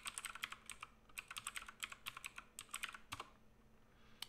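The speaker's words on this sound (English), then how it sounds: "And let's type it again." Computer keyboard keys typed in quick, irregular bursts while a passphrase is entered on a GNU/Linux or macOS machine; close and fairly quiet, with a short pause near the end and no talking.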